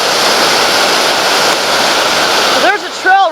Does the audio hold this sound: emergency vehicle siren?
no